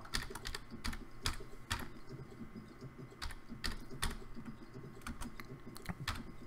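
Typing on a computer keyboard, quick irregular bursts of key clicks with short pauses, close and steady, with no speech.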